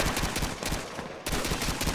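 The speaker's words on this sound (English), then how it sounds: "Are they shooting through walls?" Rapid automatic gunfire crackles in an Xbox shooter game, a loud continuous burst of quick shots with a brief break midway, no talk.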